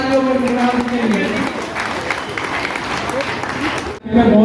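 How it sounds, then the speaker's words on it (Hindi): Loud crowd applause greets poets at a large poetry gathering in Kahalgaon, Bhagalpur, with a voice speaking over the clapping before a brief dip and renewed cheering. "जोरदार तालियों से स्वागत कीजिए"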